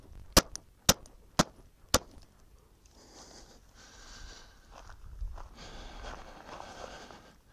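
Four sharp, loud pistol shots with Hornady 135 grain Critical Duty +P ammunition during a rifling velocity test fire at roughly half-second intervals, followed by quieter handling and shuffling noises.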